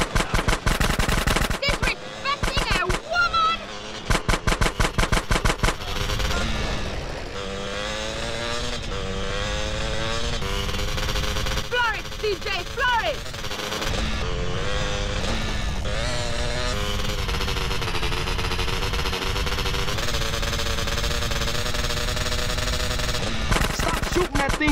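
Rapid machine gun fire in Grand Theft Auto: San Andreas, fast rattling bursts that come and go with pauses, loud and close, mixed with vehicle engine noise and brief game sounds.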